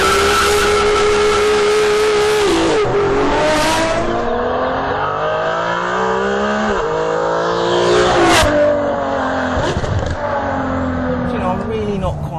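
A Ferrari 599 V12 revs hard and accelerates, its loud engine note climbing through gears with sharp shifts and brief tire squeal, continuous and close throughout.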